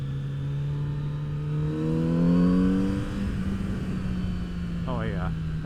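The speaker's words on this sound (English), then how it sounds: "I feel like there's not a lot of stock exhaust that sound this good" Kawasaki Z900 RS motorcycle with its stock exhaust accelerating close by, a steady engine drone climbing in pitch through a rev, then a loud swell and a quick high-pitched rise near the end.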